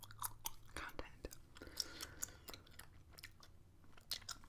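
Gum chewing up close in an ASMR setting, soft wet smacks and clicks in an irregular rhythm, with quiet whispered speech woven between the chews.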